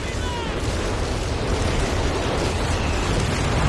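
A dense, continuous roar of battle noise from Company of Heroes 3, with rapid booms and bursts running together in a steady, loud wash in which whiz-bang rocket explosions hit. No single blast stands clearly apart.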